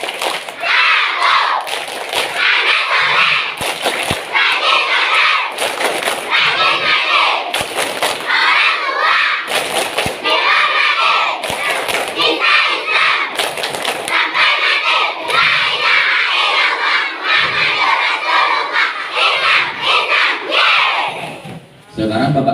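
A crowd at an Isra' Mi'raj religious talk performs the tepuk anak soleh clapping chant, loud rhythmic claps and sharp thumps driving shouted chanting voices, including children, that fill the whole stretch until a sudden stop.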